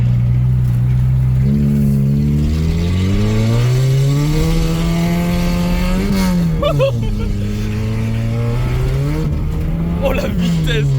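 A Peugeot 205 engine revving repeatedly, with its pitch rising and falling in long sweeps, loud and close throughout, while voices occasionally break in over it.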